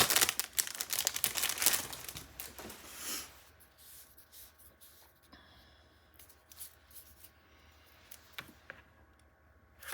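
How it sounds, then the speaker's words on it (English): Tape being pulled off a roll while an album is made gives a close, dense crackling and peeling in the first few seconds, then fades to quieter rustles and handling. "I am gonna apologize in advance for the crackly noises, but I gotta get some more tape out"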